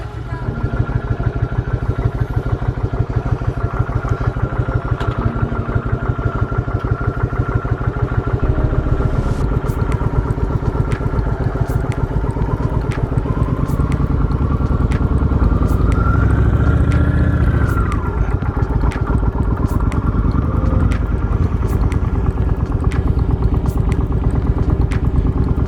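A 1996 Kawasaki Vulcan motorcycle, its clutch freshly engaging, running with a steady close-up engine drone that rises and shifts in pitch midway as it is revved and ridden off, loud and continuous.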